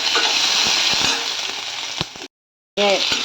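Ginger, garlic and dried chilies fry in coconut oil with a loud steady sizzle and occasional stirring clinks, cutting to brief silence before the sizzle resumes.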